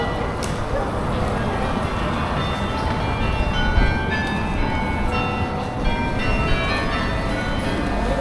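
Church bells in Bruges's central market square, Belgium, ring steadily in the distance beneath loud, continuous outdoor crowd and street noise.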